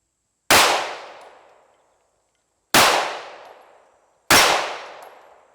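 Three loud gunshots from a Springfield Armory Echelon pistol crack out about two seconds apart, each a sharp report with a ringing tail that fades before the next shot.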